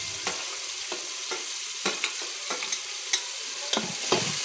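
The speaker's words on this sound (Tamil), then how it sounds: "தக்காளி நல்லா வதங்க காட்டிலும் வாட்டி எடுக்கணும்" Tomatoes with ginger garlic paste sautéing in a pan under a soft steady sizzle, punctuated by repeated sharp scrapes and clacks of a spatula stirring at an irregular rhythm, close and moderately quiet with no voices.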